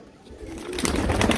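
Pigeons cooing on a rooftop loft, soft low coos rising in the second half over faint background noise.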